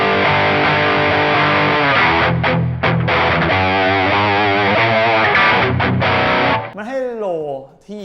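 A heavily distorted Grote Headless GR Standard electric guitar plays sustained chords and bends, loud and saturated, ending with a wavering pitch-bent note.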